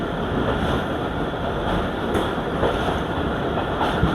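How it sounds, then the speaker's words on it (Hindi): Steady, loud rumble of the Marvi Express train running at night through the Thar desert toward Khokhrapar, a continuous rolling roar with faint rhythmic rail clatter. "बस ट्रेन की आवाज़ ही गूंज रही है।"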